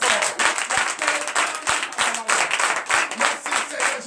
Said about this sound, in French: Donc je demande aux fidèles d'applaudir très fort.